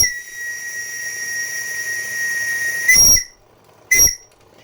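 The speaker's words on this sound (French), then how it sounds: "Mais je suis sûr que si je fais un peu de sifflet..." Steam whistle on the RW-V2 model steam engine aboard a ferry model, a steady shrill high tone held for about three seconds with a hissing blast at its end, then a second short hissy toot.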